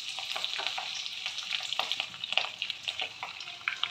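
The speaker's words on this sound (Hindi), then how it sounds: "और इसी में हम सारा तड़का डाल देंगे।" Whole spices such as cumin, bay leaf, red chillies, cloves and crushed cardamom sizzle and crackle in hot oil as a tadka for dhaba-style kadahi chicken, a steady close frying hiss with scattered pops.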